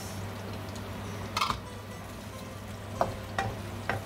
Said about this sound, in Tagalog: Hintayin lang natin mag-brown itong ating garlic at saka ang ating sibuyas.